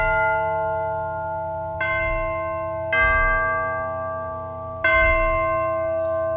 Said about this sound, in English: What if I want tubular bells instead